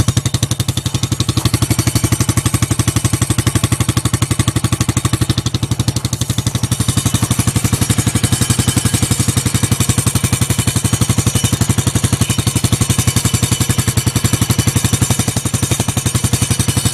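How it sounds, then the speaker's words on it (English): A Baja Dirt Runner 125 dirt bike idles with a fast, steady mechanical rattle, loud and close, pulsing evenly throughout without letup. "there's a faint rattling noise coming from somewhere"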